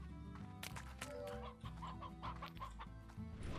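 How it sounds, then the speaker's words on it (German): A rooster in the Slime Rancher video game clucks in a quick burst of short, close clucks over steady background game music. "Das ist ein Gockel."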